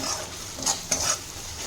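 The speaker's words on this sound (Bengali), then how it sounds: "দিয়ে আমি ভালো করে আরেকটু নেড়ে নিচ্ছি, যাতে আদা রসুন বাটার কাঁচা গন্ধটা চলে যায়" Ginger garlic paste being stirred into fried onions in ghee in a pan, with a steady close sizzle and a few soft scraping strokes of the spoon.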